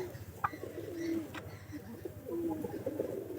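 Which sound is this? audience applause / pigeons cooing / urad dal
pigeons cooing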